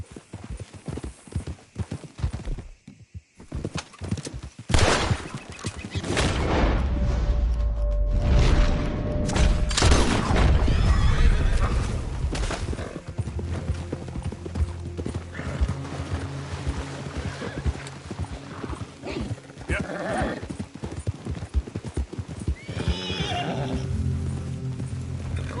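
A horse in the Red Dead Redemption 2 video game whinnies and trots, its clip-clop hooves loud and steady through most of the stretch, with game music and scattered sound effects underneath.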